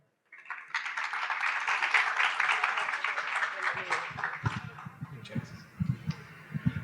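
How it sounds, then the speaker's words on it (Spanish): Audience applause for a doctor at a pediatric asthma talk, a steady patter of clapping that swells and holds for several seconds before a voice starts speaking over the tail end. "un fuerte aplauso para él"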